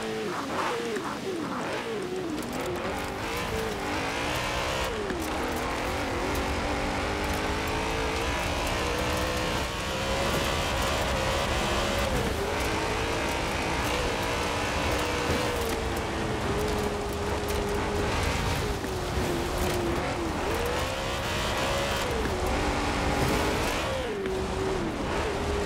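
A stock 2002 BMW M3-GTR driven in Forza Horizon 4, its engine droning steadily and rising and falling in pitch through gear changes, continuous and fairly close, with a sliding whine as the car works across dirt.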